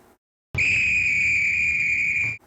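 A train conductor's whistle gives one sustained, steady shrill blast lasting nearly two seconds after a moment of silence, loud and close, in a Thomas and Friends story adaptation.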